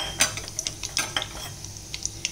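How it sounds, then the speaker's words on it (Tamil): Mustard seeds and urad dal crackle and pop in hot oil for an egg masala tempering, a close, busy patter of sharp spits and sizzles with faint stirring, no voice. "நல்லா காஞ்ச பிறகு நீங்கள் கடுகு உளுத்தம் பருப்பு போட்டிருக்கேன்."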